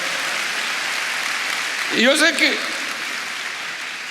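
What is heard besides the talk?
applause from church congregation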